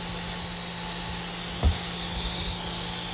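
A vacuum cleaner set to blow drones with a steady, even rush of air for the whole stretch, broken once by a single brief thump.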